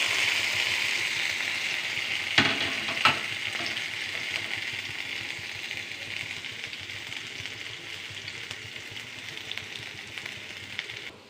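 Potato mezhukkupuratti is stir-fried in a pan with a constant close sizzle, broken by a few sharp scrapes and knocks of the stirring spoon early on.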